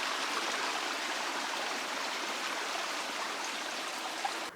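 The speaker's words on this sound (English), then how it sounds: "This creek has never dried up, even in the hottest summer when we've been here." Steady rushing of a year-round creek flowing near a rural home outside Leavenworth, Washington, a constant, even wash of water close by with no voices.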